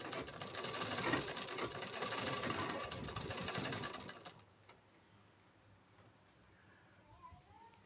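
A sewing machine runs along the edge of blouse material in one loud, busy burst of stitching that stops abruptly, leaving a quiet room with faint small noises.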